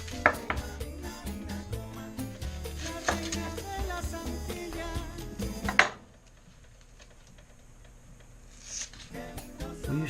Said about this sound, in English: Cut ourselves an onion.